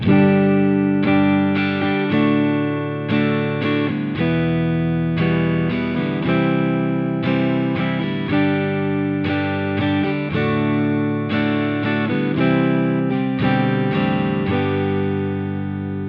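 Steady electric guitar strumming of a song in a busy, even sixteenth-note rhythm, with chords changing every couple of seconds and no voices.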